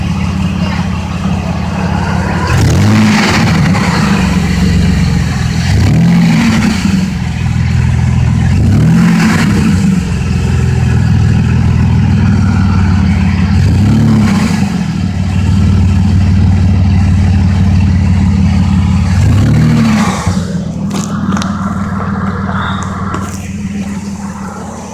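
A pickup truck engine with a bad water pump idles steadily and revs up several times in evenly spaced bursts, loud and close, with no talk over it.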